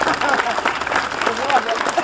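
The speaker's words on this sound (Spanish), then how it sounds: "A ver, fuerte el aplauso los que no tienen más plata." Audience applause at a live comedy show in San Bernardo on the Atlantic coast, a scattered, uneven burst of clapping with crowd noise and voices mixed in.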